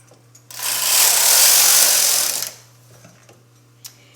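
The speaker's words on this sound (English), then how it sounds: "I'm going to knit one more row to bring my carriage to the left" A knitting machine carriage slides across a full row of a sweater, giving a steady whirring, rattling rush about two seconds long that starts and stops cleanly, loud and close, with no talk.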